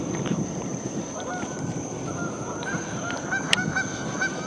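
Geese honking near a lake on a midsummer evening of bass fishing among lily pads, scattered calls at a middle distance over a constant hum of outdoor ambience.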